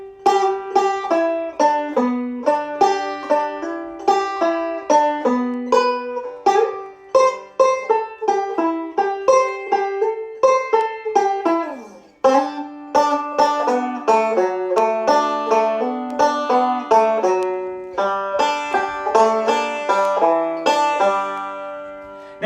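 A banjo plays a Scruggs-style up-the-neck backup lick slowly, including a hammer-on. Its plucked notes come clear and close in an unhurried rolling pattern, with no voices, picking up pace toward the end.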